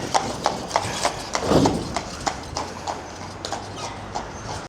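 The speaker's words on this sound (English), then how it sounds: "and we've got the horses galloping by." Horses clip-clop past on a street in Blackpool, their hooves striking in a regular, fairly close rhythm of sharp knocks over light background noise.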